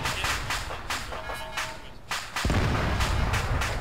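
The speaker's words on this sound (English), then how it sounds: "the enemies are direct north firing at us" Enemy gunfire in a military video game: a rapid string of sharp shots from the north, with a heavier, rumbling barrage swelling in over the last second or so.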